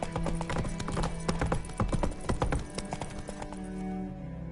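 Roach, a horse in The Witcher video game, gallops in a fast, steady clip-clop of hooves that stays close and loud, then eases off near the end, with no one talking.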